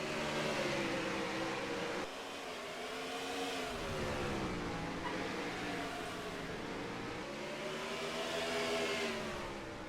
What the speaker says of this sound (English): You hear the next-gen engines here.